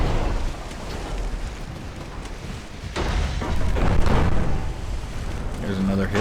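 Naval shell hits in the warship game Ultimate Admiral: Dreadnoughts, with 8-inch guns firing armor-piercing shells, come through as a dense, rumbling wash of booms and crackle that swells and falls across several seconds.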